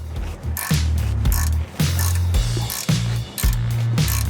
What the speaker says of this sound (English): Then this nut right here, we're gonna get that with a wrench.